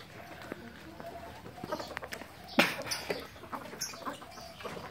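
A Bangkok gamecock clucks nearby in short bursts, with a louder squawk midway, over quiet outdoor background noise.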